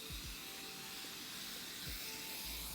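An aerosol hair spray can sprays onto hair in a continuous, close, breathy hiss lasting nearly three seconds.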